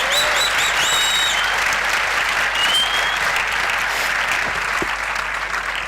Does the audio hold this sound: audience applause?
yes